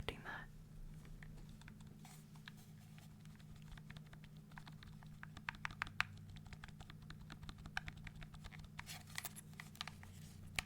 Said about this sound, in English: the buttons are very mellow. They're not as clicky as the others.